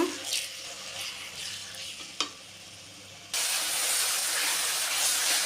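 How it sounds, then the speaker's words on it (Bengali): Ginger and garlic frying lightly in a pan, a soft stirring and sizzle that steps up into a louder, steady hiss of oil partway through, with a brief scrape in between. "এবার আদা রসুন একটু হালকা ভেজে নিচ্ছি।"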